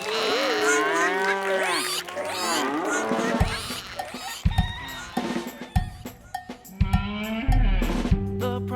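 Cattle lowing in a farm animal setting, several drawn-out moos at the start followed by clunking and knocking sounds, fairly close and loud with no speech.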